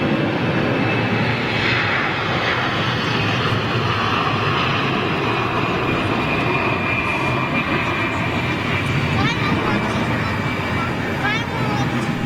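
A Nouvelle Air jet with CFM56 engines departs Düsseldorf airport with a loud, sustained broadband roar that stays steady and powerful throughout, rumbling and hissing overhead.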